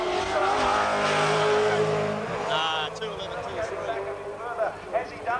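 Race car at speed on the Bathurst circuit during the 1997 Bathurst 1000, its engine note loud at first, then fading into the distance, with a commentator talking over it throughout.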